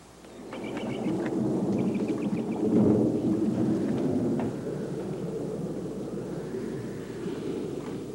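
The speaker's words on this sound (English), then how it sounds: "it must be raining a deluge up on that mountain" Thunder rumbles from a storm over a mountain, a low rolling roar that swells and fades with a steady wash of heavy rain beneath, with no voices.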